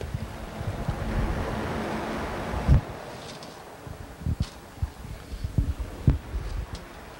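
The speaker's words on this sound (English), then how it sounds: "now I have the fan going pointing at the back there" An electric fan aimed at a spot of spilled water blows with a steady broadband whoosh. It is loud at first, then quieter, with scattered soft knocks and handling sounds close by.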